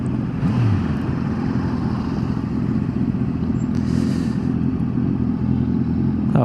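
A steady Honda CBR 650F sports motorcycle engine idles and rumbles nearby at an even pitch, with a brief higher whine partway through.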